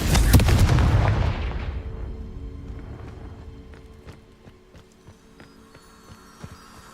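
A Confringo blasting spell explodes in the Hogwarts Legacy video game: a loud, booming blast with rumbling debris that slowly decays into a quieter tail with faint scattered clicks.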